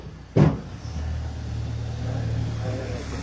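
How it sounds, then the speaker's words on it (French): A car rolls slowly past on a quiet private lane in the medieval village of Yvoire, its low engine hum steady and close for a few seconds after a brief bump. "On va attendre que la voiture passe."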